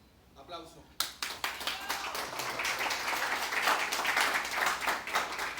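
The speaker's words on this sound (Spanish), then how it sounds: "Aplauso." Applause from a conference audience at a talk, starting abruptly after a moment of quiet and building into steady, dense clapping that continues to the end.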